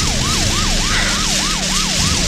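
Police patrol car siren used as a radio drama sound effect, a loud rising-and-falling wail that repeats steadily about every quarter second over engine and road rumble, with no talking.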